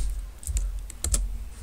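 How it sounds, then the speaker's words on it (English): Keys clacking on a computer keyboard, a handful of distinct presses in short irregular bursts, close and clear with no talking. "you have to press Shift and number 3"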